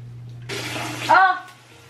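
A tap running briefly into a bathroom sink while someone washes their face, a short splashing gush close by that swells and then fades away under a faint background hum.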